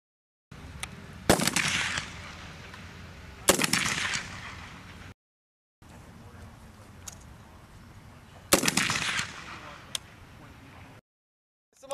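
An M4 rifle fires on a military training range: several sharp, loud reports, some in quick bursts, separated by short pauses and quiet gaps.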